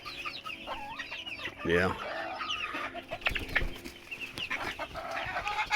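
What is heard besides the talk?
young bantam Rhode Island Red chickens clucking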